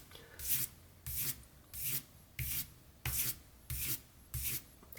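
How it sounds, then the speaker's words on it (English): A utility knife blade is stroked back and forth on a 600 grit sharpening stone, making seven evenly spaced, raspy scraping strokes with short pauses between them. Each stroke is close and clear against a quiet background. "when you're sharpening, you can move back and forth like this"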